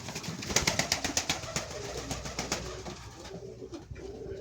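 Pigeons coo in a loft during breeding season, some sitting on eggs, overlapping throaty calls with scattered clicks and flutters, fairly close and steady throughout.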